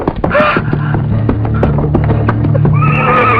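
A horse whinnies loudly and close, with a second neigh near the end, over steady clip-clop of hooves and a constant low rumble, with rhythmic hoofbeats running throughout.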